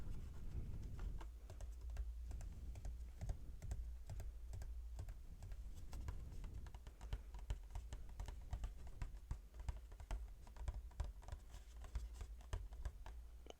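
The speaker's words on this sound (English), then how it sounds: "So I realized I didn't do any tapping of the box" Fingers tap steadily on a Pokemon card box with its plastic wrap removed, making quick, close, crisp taps in a continuous dense patter for the whole stretch, with no talking.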